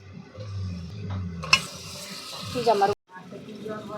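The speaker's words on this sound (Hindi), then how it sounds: "अब इसको हम लगातार चलाते हुए भूनेंगे" Mutton and onion fry in a pot over a village clay stove as a spoon stirs them, a low sizzle broken by a few sharp scraping clinks against the pot's sides.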